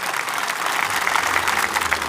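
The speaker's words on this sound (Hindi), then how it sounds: "जोरदार ताली बजा के इनका स्वागत करिए।" A crowd at an outdoor political rally bursts into dense, sustained applause, loud and even throughout with a faint low hum underneath and no speech.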